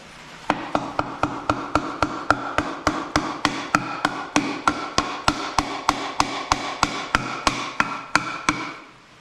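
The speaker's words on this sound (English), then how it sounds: "take our block of wood and just kind of hammer this in place" Steady, evenly spaced hammer blows on a wood block, driving pistons into a 1930 Ford Model A engine, around two dozen sharp knocks in a regular rhythm, close and clear.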